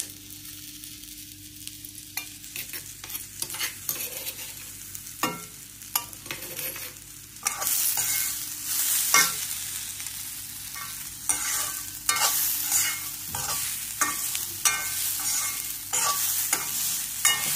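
Ginger garlic paste sizzles in a pan, quieter at first and then louder and hissier, as repeated spoon scrapes stir it through the mix, close up with no talking.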